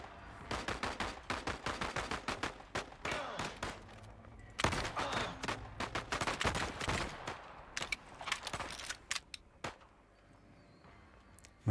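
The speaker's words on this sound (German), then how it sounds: "Maschinengewehr?" Machine gun fire in the game Voidtrain, rapid bursts of automatic shots in clustered volleys with brief pauses between them, crisp and fairly close, with no talking over it.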